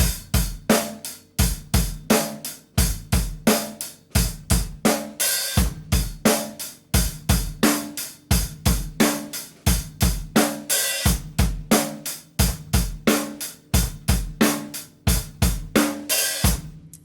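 Drum kit plays a groove with open hi-hat, a loud, steady repeating two-measure pattern of punchy kick and snare hits with washy cymbals, heard alone without any talk.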